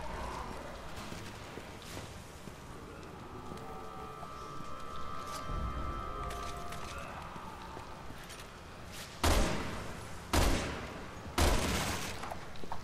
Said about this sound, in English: Better reload this shotgun, because I'm gonna need it.